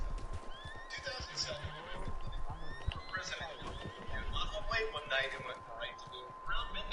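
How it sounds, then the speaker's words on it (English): A mountain horse neighs and whinnies several times at close range, with clip-clop hoofbeats underneath and people talking over the scene. "Oh, it's a beautiful horse"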